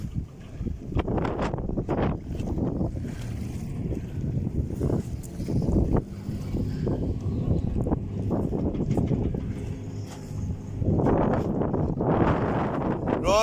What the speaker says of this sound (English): this old wind's making it interesting, isn't it?